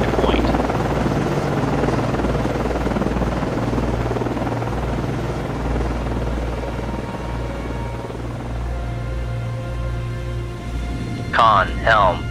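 A helicopter launches from the frigate USS Nicholas (FFG-47) in the Cold Waters naval game, its low rotor drone thudding steadily under radio-style crew voices, followed by a brief burst of speech near the end.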